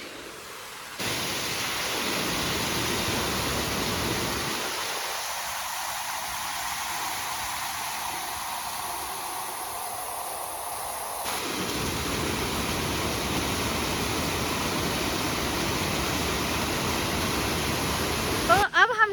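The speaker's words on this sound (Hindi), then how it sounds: "यहाँ पे बहुत ही ज्यादा पानी का फोर्स है" A river near Darjeeling runs high and forceful, producing a loud, continuous roaring rush of water that stays steady from start to finish.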